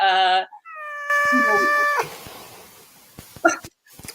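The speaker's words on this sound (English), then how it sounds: "that's the cat. This cat keeps coming back" Cat meowing indoors with two clear drawn-out meows in the first two seconds, followed by quieter rustling and small knocks.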